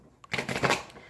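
Tarot cards are shuffled in one quick, soft riffle of papery flutters, close by and fairly quiet.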